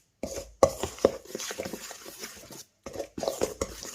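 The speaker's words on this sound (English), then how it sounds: "So we're just going to mix all this in now." Lamb leg marinade of spices and thick yogurt being mixed by hand or spoon, close wet squelching and soft slapping in irregular bursts with brief pauses, no talking.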